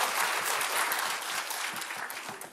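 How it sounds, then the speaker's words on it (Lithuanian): Studio audience applause in a Lithuanian television show fills the room with many hands clapping, dense and steady, easing off slightly at the end. "Taigi po jūsų aplodismentų."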